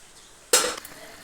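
A single short scrape and clatter of a spoon stirring pabda fish curry in a pan, one brief burst then quiet, close and fairly loud.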